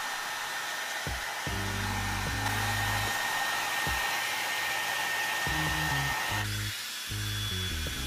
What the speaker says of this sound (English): Like I said, it's drying my hair pretty quickly.